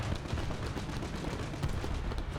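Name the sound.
tank gunfire in War Thunder video game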